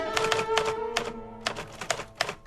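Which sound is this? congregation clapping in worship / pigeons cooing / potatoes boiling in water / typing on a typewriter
typing on a typewriter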